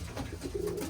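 Young Birmingham Roller pigeons cooing softly near a feed tray during a first outing, low murmuring coos close by with faint background noise.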